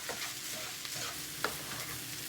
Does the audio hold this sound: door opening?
no